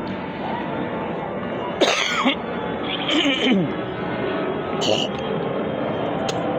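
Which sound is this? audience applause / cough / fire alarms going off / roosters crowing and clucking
cough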